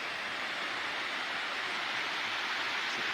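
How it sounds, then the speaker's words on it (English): Steady, close rush of a waterfall beside a campsite in the Cranberry Wilderness of West Virginia, a dense continuous roar of falling water with no breaks and no voices. "Look at that sweet waterfall."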